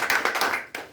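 An audience at a business seminar claps on cue, a short burst of several loud, close, irregular hand claps with no talk over them.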